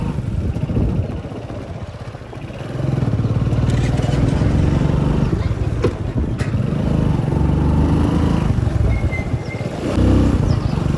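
A motorcycle engine runs close by, idling low then revving into a loud, steady drone with a few sharp clicks over it.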